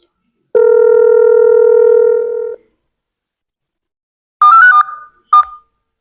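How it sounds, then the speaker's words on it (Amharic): During a phone call, a telephone line gives a steady tone for about two seconds. After a pause, two short electronic beep bursts follow, loud and close. "ግን ዛሬ እስቲ ልሞክር፣ ሙለር ካነሳው ስልኩ ማለት ነው።"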